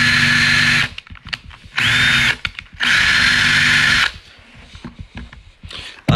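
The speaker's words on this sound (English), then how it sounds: "get that hole drilled" A power drill boring a hole in a wooden craft table, heard as three loud whining bursts separated by short pauses, with clatter and handling noise in between and a final brief rev at the end.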